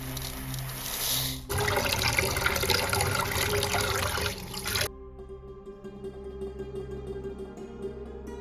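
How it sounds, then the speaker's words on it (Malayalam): Basmati rice washed in water for Afghani mutton pulao, a few seconds of close, steady sloshing and splashing that then gives way to background music, with no talking. "1 കിലോ ബസ്മതി റൈസ് നന്നായി കഴുകിയ ശേഷം 1 മണിക്കൂർ വെള്ളത്തിൽ കുതിർത്ത് വെക്കണം."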